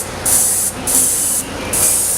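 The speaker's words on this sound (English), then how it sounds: "I'm holding my air gun maybe about 6 inches away" Three short bursts from a barber's air gun, held about six inches away, hiss in a steady rhythm, close and fairly loud, with brief pauses between them.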